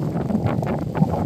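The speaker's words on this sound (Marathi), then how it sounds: "काय मस्त वारा आहे." Wind on a fort trek at Sarasgad buffets the microphone in a steady low rumble with gusty swells, close and fairly loud throughout the brief moment.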